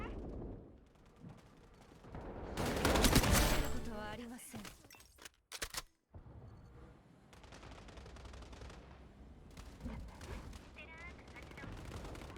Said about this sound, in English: I switched to my SMG.